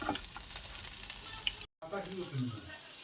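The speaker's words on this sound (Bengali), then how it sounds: "তো দেখুন উল্টে উল্টে দিলে এরকম সুন্দর লাল লাল করে এই যে ভাজা হবে" Pitha frying in oil in a pan as it is turned, a soft continuous sizzle with faint scraping and light clinks, one brief dropout midway.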